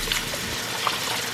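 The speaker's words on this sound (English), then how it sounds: "I always wash my rice." Rice being washed with water in a big pot on the stove for St. Vincent pelau, a brief close sloshing and trickling of water.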